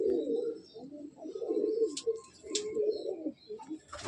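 Pigeons in a loft, Madrasi and Giribaz breeds, coo in low throaty rolling phrases close by, with a few faint chirps and rustles between calls.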